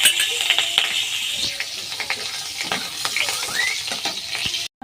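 Garlic and green chillies frying in oil, a close, steady hiss with scattered small pops and a few clinks of a utensil against the pan, without talking, cutting off sharply at the end.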